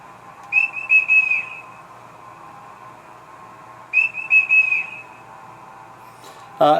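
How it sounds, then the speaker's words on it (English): A Roco Swiss mountain model locomotive's sound decoder plays a conductor whistle effect, two clear trilling whistle blasts a few seconds apart, each made of several short pulses, over a faint hum, with a brief extra chirp at the end. "F4 is a conductor whistle."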